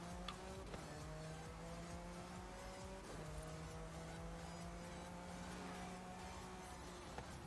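Tires squeal as a car drifts on the handbrake in Forza Horizon 5's Hot Wheels expansion. Sustained screeching whines sweep in pitch over a steady engine drone, restarting at about one and three seconds, with no voices.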